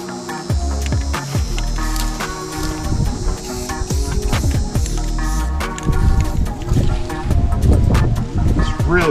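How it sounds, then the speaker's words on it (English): Strong wind gusts across a microphone outdoors, a loud continuous rumble and buffeting that swells and dips throughout, with rattling and clattering bursts mixed in. "It's really windy today."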